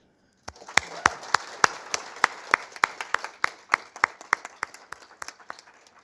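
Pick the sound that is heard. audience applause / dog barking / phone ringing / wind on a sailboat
audience applause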